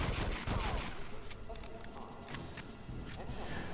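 Rapid video-game gunfire from The World is Not Enough on the N64, a dense burst of repeated shots filling the whole stretch at steady loudness with no one talking.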